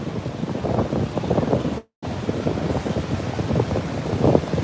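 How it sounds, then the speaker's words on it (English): Strong wind at Juno Beach buffets the microphone with heavy low rumbling gusts that continue throughout, apart from a brief dropout near the middle. "I know it's super windy"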